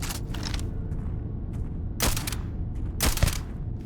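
Gunfire in the video game Starfield during a fight with bounty hunters, several sharp bursts of shots in quick succession over a busy rumbling background, with two louder blasts standing out near the end.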